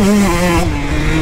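A KTM SX125 motocross bike engine revs hard up close, its loud, buzzy note climbing steeply in pitch before dropping back as the next gear catches, then pulling again.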